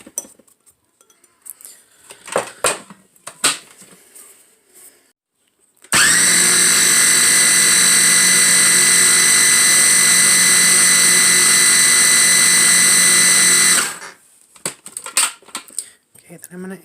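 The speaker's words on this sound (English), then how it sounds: "we're going to give that a little mix together" An electric mixer whirs steadily, loud and close, blending confectioner's sugar and almond flour for macarons. It runs for about eight seconds between stretches of quiet kitchen clatter.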